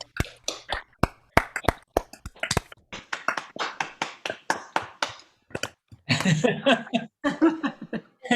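Panelists on a Zoom call give a round of applause, heard as sparse, uneven claps and taps that thin out, followed by laughter and overlapping voices.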